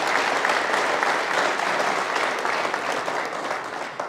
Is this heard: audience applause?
yes